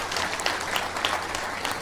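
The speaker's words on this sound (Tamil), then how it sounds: "ஒரு பெரிய கரகோஷம்" Dense, sustained applause from an audience at a Tamil debate event (pattimandram) at the Perambalur book festival, a steady wash of many clapping hands filling the room without pause.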